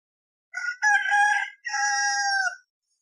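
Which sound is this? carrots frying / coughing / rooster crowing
rooster crowing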